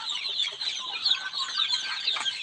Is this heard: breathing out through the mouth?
no